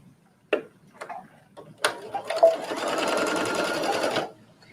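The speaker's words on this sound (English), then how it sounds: "I'm just using a straight stitch" A home sewing machine runs a straight stitch while hemming a trench coat, a steady fast whirring patter lasting about two seconds. A few soft clicks and handling taps come first, and it stays close and moderately loud.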